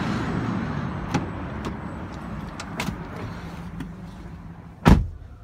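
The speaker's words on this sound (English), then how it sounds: "You have automatic doors as well." The power sliding door of a 2011 Volkswagen Routan minivan runs with a low motor whir and several soft clicks, ending in a firm thump as it latches shut.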